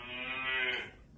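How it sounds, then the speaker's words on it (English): A cow's moo played from an assistive communication device, a single sustained low bellow lasting about a second, clear and close with no talk over it. "What's a cow say?"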